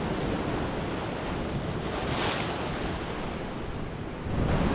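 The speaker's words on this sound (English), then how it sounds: "Big swell." Heavy sea swell and surf roll steadily along the Dorset coast on a lumpy morning, a loud continuous wash of breaking waves mixed with wind buffeting the microphone, with no voices.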